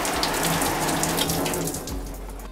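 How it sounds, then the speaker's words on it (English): Shower water patters and hisses steadily on an umbrella indoors, a dense continuous spray that is loud and close, with a low rumble near the end. "I'm gonna go into the shower and wet the umbrella a little bit"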